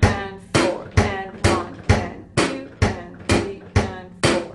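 Rock drum groove with a busy bass drum, nine evenly spaced punchy hits with ringing cymbal and snare decay, close and played alone without talk.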